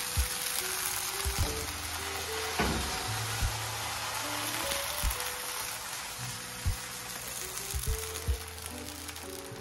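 Flourless tortilla batter sizzles and crackles steadily in a greased pan, a dense close frying hiss with scattered pops and light scraping.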